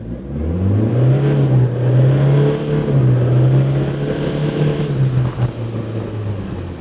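A Toyota Hilux N80 4WD pulls away hard from a standstill, its engine droning loud and close with a rising then settling tone over several seconds, with no talk.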